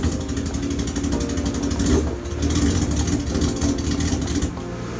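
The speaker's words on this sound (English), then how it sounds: "with some help, we got the engine running." A loud Formula SAE race car engine runs steadily with a rough, throbbing idle and a brief swell partway through, filling the whole clip without any voices.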